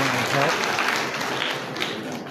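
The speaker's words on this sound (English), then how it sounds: "Please clap for Alex" Brief burst of applause from a sizable audience at a youth graduation ceremony, dense clapping that holds steady and tapers slightly, with a voice faintly underneath.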